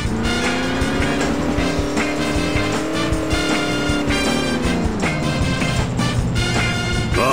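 A car revving and accelerating hard in The Simpsons Hit & Run, its loud engine tone climbing, holding, then dropping as it shifts, with busy game sounds layered over it and no talk.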